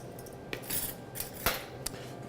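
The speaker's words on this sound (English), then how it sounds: "Now we mix this around." A utensil stirring a lime snack in a bowl, with a few distinct clinks and scrapes over a steady background hiss, close and with no talking.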